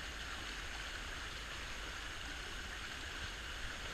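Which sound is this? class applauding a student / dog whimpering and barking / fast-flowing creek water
fast-flowing creek water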